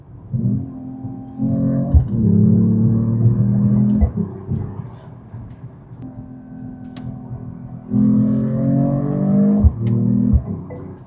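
A Mercedes-AMG E53 accelerates hard on the road, its engine note climbing in repeated strong pulls broken by quick, crisp gear shifts every couple of seconds, loud and close throughout.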